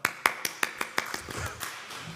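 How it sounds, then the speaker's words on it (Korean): A congregation at a Sunday morning church service claps in a quick, steady rhythm, about a dozen crisp, close claps that thin out toward the end, with faint voices underneath. "박수 한번 합시다."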